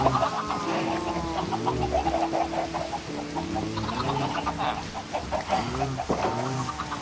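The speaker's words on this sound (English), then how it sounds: "Let's feed these chickens." Chickens in Minecraft VR cluck and bawk repeatedly in short, irregular bursts over a busy game soundscape, fairly close and prominent.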